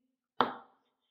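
Knife chopping through a hard frozen vegetable: a single sharp crunching cut up close, with a brief crackling tail that fades within a few tenths of a second, then silence.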